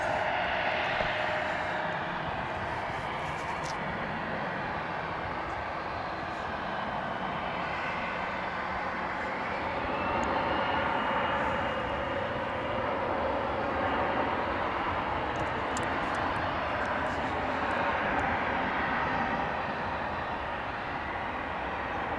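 An airplane approaches at DFW International Airport, a steady broad jet roar that holds throughout, swelling slightly now and then, fairly loud and distant-to-nearing with no talk.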